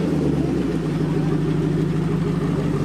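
A Ford GT supercar's engine hums steadily and loud at close range, a continuous low idle-to-rev drone with no pauses and no talk over it, set amid a gathering of exotic cars.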